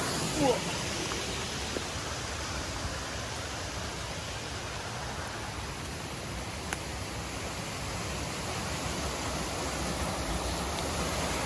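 A stream on the Appalachian Trail rushes steadily near a campsite, a constant broad wash of flowing water filling the whole stretch with only a faint click or two.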